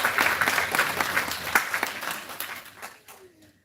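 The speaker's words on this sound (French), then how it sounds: "je pense que nous sommes capables d'applaudir encore une fois" Audience at a French-language academic project presentation breaks into warm, sustained applause that fades out over a few seconds, ending with a brief quiet tail.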